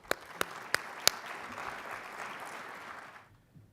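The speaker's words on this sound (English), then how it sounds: "Please join me in a round of applause to thank all those who contribute." Four sharp, separate claps open the moment at a research bureau's annual meeting, then a steady round of audience applause follows and fades away after about three seconds.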